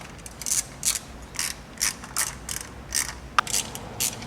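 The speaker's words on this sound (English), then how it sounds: "next we'll remove the 10mm bolts that are holding in our ignition coils" A ratchet loosens the 10mm bolts that hold the ignition coils on a Kia Spectra 1.8L engine. About nine short, crisp clicking bursts repeat at a steady rhythm, close and clear, with no talking.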